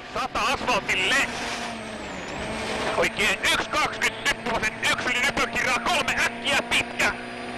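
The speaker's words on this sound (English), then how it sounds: "Jari-Matti Latvala blasts his Ford Fiesta into this final day" Jari-Matti Latvala's Ford Fiesta rally car charges through the 14.8-kilometre Booker stage at Rally Australia, its engine loud and close, revving up and down in quick bursts with sharp gear-change breaks.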